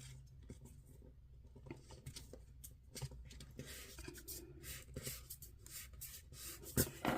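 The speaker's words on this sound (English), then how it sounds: "I need to make sure that I am using this bone folder to crease that well" A bone folder rubs and scrapes along a crease in folded paper while a pocket is made for a planner, producing soft, irregular close-up scratching strokes.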